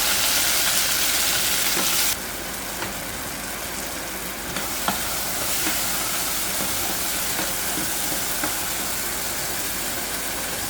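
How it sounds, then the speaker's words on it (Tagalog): Chopped tomatoes hitting oil with golden-browned garlic in a pan, a loud steady sizzle and hiss that surges at the start then settles into continuous frying, with faint stirring clicks and no talk. "Igisa ko lang muna"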